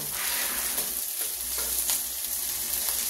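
Sinangag, Filipino fried rice, sizzles in a frying pan as it is stirred, giving a constant close hiss with a few soft scraping strokes.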